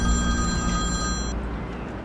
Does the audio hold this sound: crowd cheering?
no